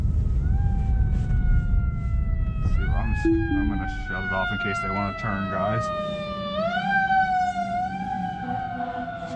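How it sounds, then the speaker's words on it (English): A fire truck siren wails nearby on a road in Maine, its rising and falling tones sliding over traffic rumble while a person speaks briefly over it. "I can hear an ambulance or something. Okay, yeah, there's a fire truck."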